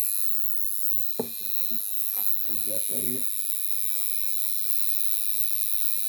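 A tattoo machine from a newly unboxed kit buzzes with a steady, loud electric drone throughout, while people talk briefly over it.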